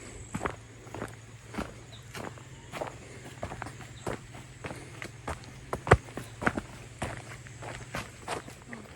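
Steady footsteps crunch along a forest trekking trail on the way to Devkund waterfall, close and evenly paced over a low steady hum, with a few louder scuffs midway.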